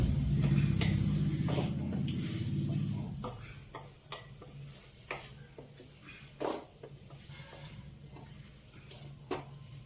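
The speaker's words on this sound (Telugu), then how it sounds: "బంగాళదుంప బాగా వేగాలండి." Potatoes for a Telugu potato masala curry fry in a pan, a steady close sizzle with scattered ticks and scrapes of stirring; the frying is loudest in the first three seconds and then eases to a quieter hiss with occasional clinks.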